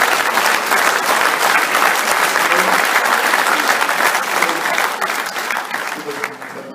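Sustained audience applause at a PMI conference speech, a full hall clapping loudly and continuously before slowly tapering off at the end.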